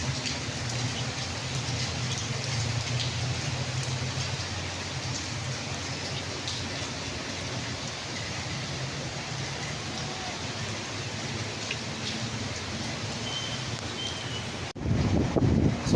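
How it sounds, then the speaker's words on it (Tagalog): Steady, heavy typhoon rain pours down in Angeles City, Pampanga, in a dense continuous hiss, with some wind noise, and a louder burst of rumbling near the end. "Tingnan yung buhos ng ulan oh."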